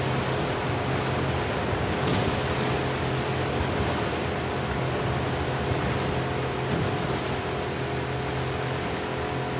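Ocean waves in the video game The Last of Us Part II: a steady, loud, broadband surf roar with gentle swells, continuous throughout with a faint low hum beneath, no voices.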